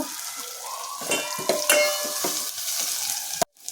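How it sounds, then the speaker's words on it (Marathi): Spices, ginger-garlic paste and asafoetida sizzle and crackle in hot oil, with a steady hiss and a few sharp pops and stirring clinks, ending in an abrupt knock. "फोडणी छान परतल्या गेली आहे"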